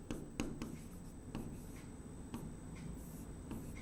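Chalk or marker writing on a board during a Hindi-language chemistry lesson on chemical kinetics, a steady run of scratchy strokes with a few sharper taps, close and alone with no talking.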